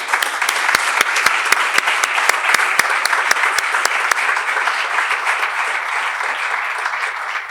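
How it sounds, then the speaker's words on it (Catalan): Loud, dense applause from an audience at a communication awards evening in Tortosa, honoring a colleague. Sharp individual claps stand out above a steady wash that continues evenly for the whole stretch, with no voices. "a qui voldria dedicar-li un fort aplaudiment"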